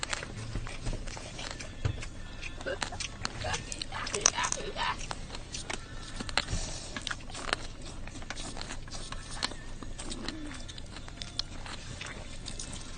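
Continuous close crunching and chewing of crisp food, with rapid bites and mouth noises throughout, recorded intimately.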